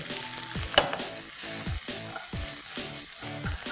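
Diced red onions frying with ginger and garlic on a tawa, a bright sizzle under rhythmic, repeated scraping strokes of a spatula, with one sharp clink near the start.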